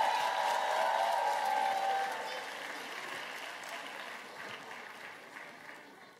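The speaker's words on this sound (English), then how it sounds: "let's give them a big round of applause" A church audience claps for children leaving the stage after an Easter program, a sustained wash of applause that starts fuller and gradually thins and softens toward the end.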